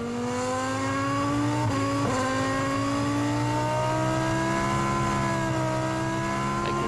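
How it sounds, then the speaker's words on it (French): Ferrari V10 Formula 1 engine driven by Barrichello, idling low in the revs under a neutralised race, a steady loud drone with rich harmonics, briefly blipped and dipping twice early on, close and continuous with no talk. "on écoute le V10 Ferrari avec Barrichello pendant la neutralisation"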